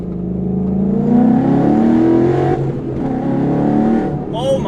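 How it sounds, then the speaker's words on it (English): A 2014 Ford Mustang GT V8 accelerates at wide open throttle, a loud, steady engine drone rising in pitch for several seconds while someone talks over it inside the car. "you have to wide open throttle this car"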